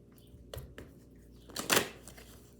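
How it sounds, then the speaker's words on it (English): A deck of tarot cards is shuffled in a quiet room, giving a few soft riffling bursts and one louder flurry of card flutter near the end. "One more shuffle."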